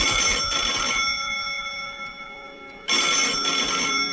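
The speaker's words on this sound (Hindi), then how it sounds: "और तभी कमरे का फोन बजा" A room telephone bell rings loudly in two bursts with a pause between them, a bright, harsh electronic ring close by.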